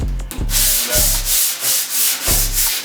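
Hand sanding of surface rust with 80 grit sandpaper during a custom restoration: loud, close, rhythmic back-and-forth rasping strokes, repeated steadily with no talk.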